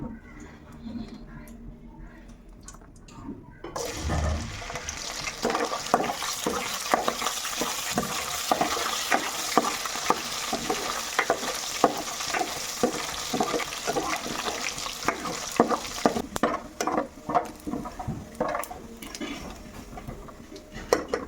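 Small fish, cut tomato, onion, green chilli and cucumber frying in a pan, a steady crackling sizzle that starts after a few seconds of quiet and runs on with scattered pops and stirring clatter.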